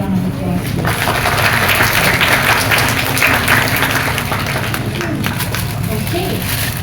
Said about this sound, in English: let's give Advisors Alliance Group another round of applause.